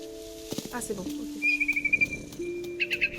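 A swallow in the video game What Remains of Edith Finch chirps in short, bright trills and tweets amid other game sounds, with a person talking over parts of it.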